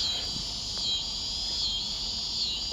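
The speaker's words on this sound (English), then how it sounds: "I think I heard the lyric cicada, which is the first time in a while I've heard any." Lyric cicadas and scissor grinder cicadas buzz outdoors, a continuous high, shimmering drone that wavers slightly in loudness and fills the whole stretch without any talk.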